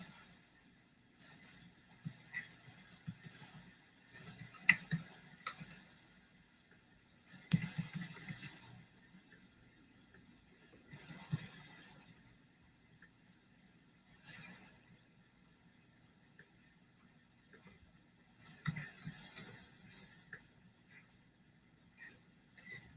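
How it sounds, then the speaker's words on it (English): Computer keyboard typing and mouse clicking, soft and close, in irregular clusters of quick keystrokes separated by silent pauses. "you'll type in your email account and your password and click create an account"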